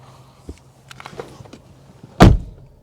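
A 2020 Honda Accord 2.0T sedan door closing as heard from inside the cabin, faint rustles and light handling sounds, then one solid, muffled thud.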